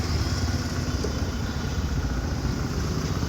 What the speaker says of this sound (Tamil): 3/4 மணி நேரமாக இந்த வண்டி ஆன்லேயே இருக்குது.